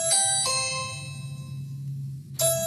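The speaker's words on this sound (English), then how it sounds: "That sounds like our doorbell" A two-tone doorbell chime rings out, its notes fading slowly before another chime strikes near the end, over a low steady hum.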